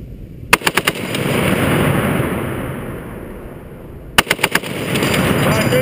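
An M2 .50 caliber machine gun fires two short, loud bursts of rapid reports several seconds apart, with steady wind-like rumble between them.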